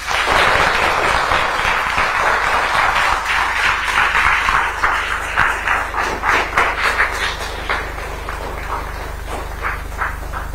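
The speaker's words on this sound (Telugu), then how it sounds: "గట్టిగా చప్పట్లు కొట్టి అందరూ చెప్పండి" An audience of school students claps together at an event, a dense roar of applause that holds steady and then thins into scattered, separate claps before fading.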